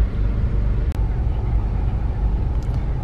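Steady low road traffic rumble from passing vehicles in a city street, continuous and fairly loud, with a couple of brief higher sounds partway through.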